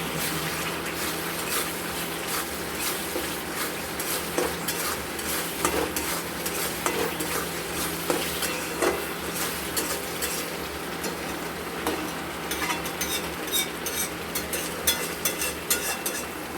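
A spatula stirs masala frying in oil in a pan for potol posto, a Bengali pointed-gourd and poppy-seed dish, giving a steady close sizzle broken by frequent scraping strokes against the pan, with no talk.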